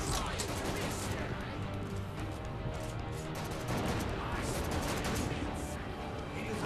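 Heavy gunfire in the video game Darkness 2, dense sustained bursts of shots and explosive blasts filling the whole stretch, loud and continuous, with some voice underneath.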